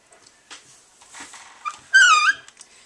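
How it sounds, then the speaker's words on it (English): A computer keyboard squeaks as it is shifted on a desk, giving one short, high, wavering squeak after a few soft taps and rustles in a quiet room. "I'm moving my keyboard. Squeaky,"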